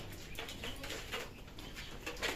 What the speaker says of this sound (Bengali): এটা হচ্ছে রুমবাজি কবুতর